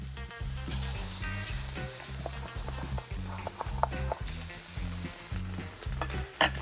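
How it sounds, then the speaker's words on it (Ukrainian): Loud, steady sizzling of pork fat frying in a hot cauldron, with a dense crackle and occasional sharp pops, no voices. "Поки смажиться сальце"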